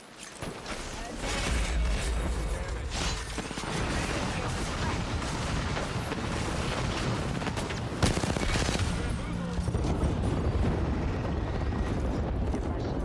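Dense rapid gunfire in the battle royale video game Apex Legends, sustained bursts and volleys close by with a sharp crack near the middle, mixed under occasional talk.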